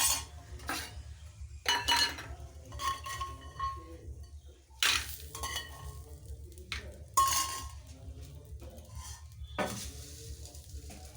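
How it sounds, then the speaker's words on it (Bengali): Leafy greens cooking in a wok-style kadai, with scraping stirs, clinks of a utensil against the pan and a soft sizzle, in short bursts over a steady low hum. "আর এই শাকটা বসিয়ে দিলাম, শাকটা কড়াই আছে আমার"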